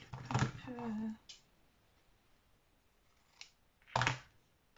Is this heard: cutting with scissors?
yes